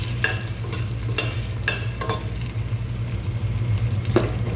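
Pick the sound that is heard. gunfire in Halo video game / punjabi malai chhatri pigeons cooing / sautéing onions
sautéing onions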